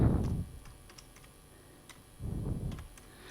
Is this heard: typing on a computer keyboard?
yes